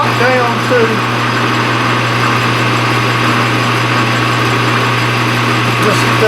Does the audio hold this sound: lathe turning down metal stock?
yes